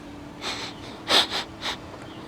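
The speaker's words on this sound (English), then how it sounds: "Gotta sniff the cigarette glaze." Close, loud sniffing at a 1963 Arvin AM/FM radio with a yellowed cigarette-tar finish, a few short breathy snorts bunched together, alone without speech.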